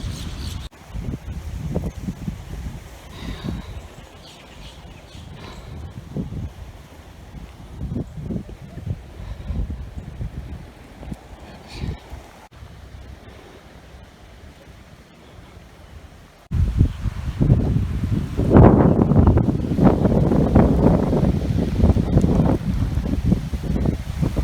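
Strong wind buffets the microphone on the beach at Tybee Island, rumbling low and steady, then growing much louder and gustier partway through with heavy roaring blasts.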